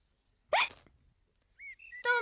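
A cartoon child from the animated series Peppa Pig hiccups: one sharp, loud hiccup, a short pause with a brief high squeak, then a second voiced hiccup close up.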